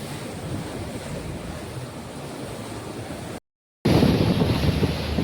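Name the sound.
calm sea waves from a boat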